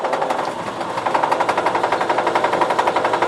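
A drill boring holes into a metal transmission adapter plate for a 5-speed swap, producing a loud, continuous close rattling whir with a rapid pulsing hammer-like rhythm throughout, no talking.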